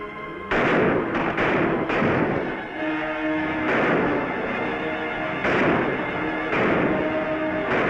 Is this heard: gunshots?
yes